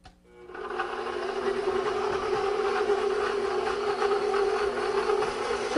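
An electric stand mixer whirs steadily through anisette cookie dough, spinning up quickly and then holding an even, droning motor hum up close for several seconds.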